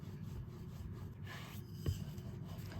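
Rolling pin pressing out sesame and jaggery poli dough, a soft close rubbing and rolling over a board, quiet and continuous with one brief knock near the middle.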